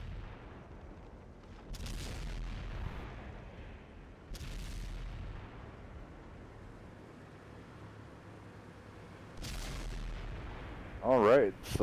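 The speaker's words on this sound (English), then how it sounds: "Celtic Legend can get one shot into him." Booming gunfire and artillery shots in a competitive video game match: a few heavy, widely spaced blasts over a quiet background, with a brief warbling electronic tone at the very end.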